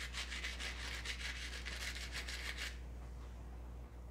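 Sandpaper wrapped on a file rubs back and forth over piston rings to de-burr them, a steady close scratchy rasping of quick strokes for under three seconds, then stops, leaving quiet background hum.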